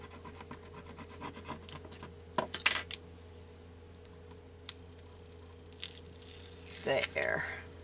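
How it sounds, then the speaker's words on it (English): Paper on a junk journal collage is burnished down by hand, giving soft rubbing and scraping strokes with a few sharper scratchy bursts, close-up over a faint steady electrical hum. "Sometimes you just gotta burnish it down better."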